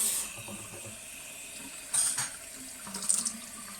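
Tap water runs into a kitchen sink while hands are rinsed, a steady close hiss of flowing water with two brief louder splashy surges as the stream is disturbed.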